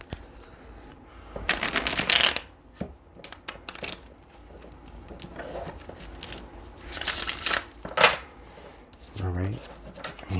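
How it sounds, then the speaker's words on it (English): Tarot cards being shuffled in quick riffling bursts with pauses between them, close and moderately loud, with a person talking quietly between the shuffles. "Let's go ahead and pull some cards for the additional energies here."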